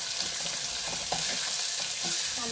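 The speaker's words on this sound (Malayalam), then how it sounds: "ഇനി അതിലേക്ക് കട്ട് ചെയ്ത് വെച്ച ഒരു വല്ലുള്ളി ചേർത്ത് കൊടുക്കുകയാണ്." Chopped onion hits a pan of browned garlic, producing a close, constant sizzle and light frying crackle with occasional stirring clinks, with no voices.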